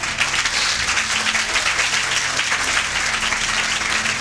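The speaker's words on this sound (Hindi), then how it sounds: "आपकी ताली की आवाज कम है।" Congregation applauding during a Hindi church sermon, a loud, continuous burst of clapping from many hands filling the whole stretch, with a faint low hum underneath.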